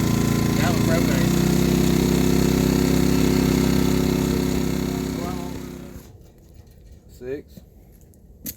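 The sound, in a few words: houseboat engine running after being started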